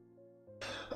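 A single short cough or throat-clearing from someone with a cold, close and fairly quiet, rising abruptly after a brief low hum.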